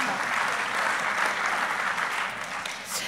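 Audience at a workplace gender-equality conference applauds in a steady, dense burst of clapping lasting a few seconds.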